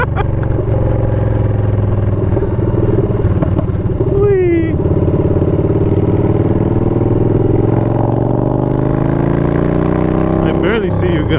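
A motorcycle rides a bumpy trail on a first ride, its engine droning loud and steady for the whole stretch with rising and falling revs, plus rattles and jolts, as voices talk over it.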